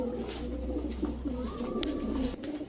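Female pigeons, high-flyer Giribaz and racer birds, give soft repeated coos inside a loft. The birds are close and steady, set over a low constant hum from the surroundings.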